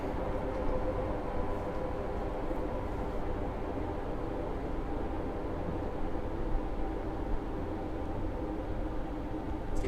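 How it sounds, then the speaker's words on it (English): Class 158 diesel unit braking for a station stop in Train Simulator on the Bristol Temple Meads to Exmouth route, a steady low rumble of running gear and rail noise throughout, even and moderately loud with no talk. "I'm now applying the brakes for our stop"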